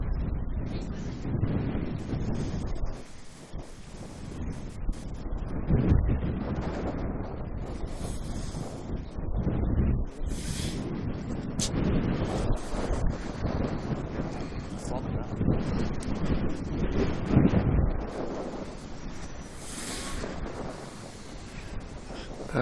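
Strong wind buffets the microphone at Manchester Airport, roaring and gusting continuously throughout, with voices talking faintly underneath.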